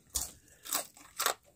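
Three crisp, close crunching bites into dry microwaved potato, each a short burst spaced about half a second apart, with no talking.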